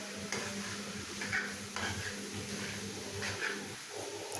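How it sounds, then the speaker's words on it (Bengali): Spatula scraping and stirring thick carrot halwa in a pot, with soft repeated scrapes and faint clinks against the metal at a quiet, close level. "খুন্তি বারবার নাড়াতে হবে, নয়তো হালুয়া পুড়ে যাওয়ার সম্ভাবনা রয়েছে।"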